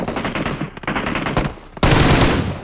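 Gunfire in a PUBG Mobile-style shooter game: a loud, rapid burst of automatic fire, a brief lull, then a heavier, close volley.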